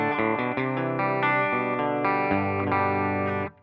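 Clean, mostly dry electric guitar with slight compression from a Fractal FM3 preset, a continuous run of picked notes and chords ringing steadily for over three seconds before stopping, close and alone.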